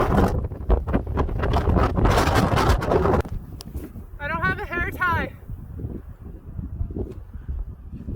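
Wind batters a microphone outdoors on a snowboard trip, a loud rumbling buffet that drops away midway, with people talking over it and a brief whistling tone.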